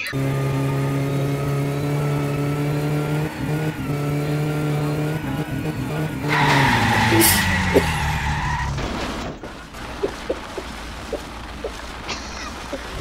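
A car in the GTA 5 video game revs with a droning engine, then screeches into a tire skid and crashes with a burst of noise, followed by scattered impact thuds.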